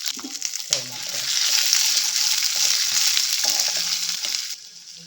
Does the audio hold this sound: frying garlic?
yes